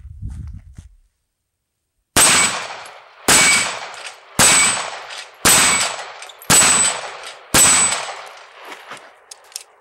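Springfield EMP 9mm compact pistol with a single-action 1911-style trigger firing six loud, sharp shots at steady intervals of about a second, each with a ringing tail, after a brief low rumble and a short silence.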